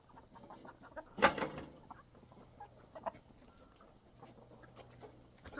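Black dual-purpose chickens cluck and fuss in a homestead farmyard, with one sharp louder squawk early on and scattered soft clucks over steady background noise.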